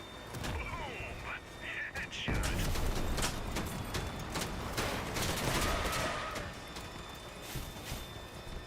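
Shotguns fire in the Crossout vehicle combat game, with blasts and clatter over a dense, loud mix of engine and battle noise. A voice talks over the shooting.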